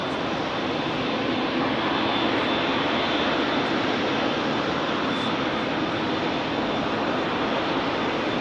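A British Airways airliner departs London Heathrow's runway 27R, its jet engines giving a loud, broad, steady roar that holds throughout with no talk over it.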